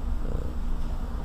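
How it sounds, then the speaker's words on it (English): A cat purrs close up in a soft, continuous low rumble that lasts about a second. "He's purring."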